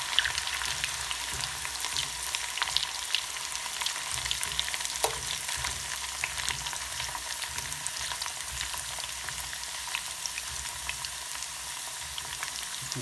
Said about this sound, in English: few seconds for them to fry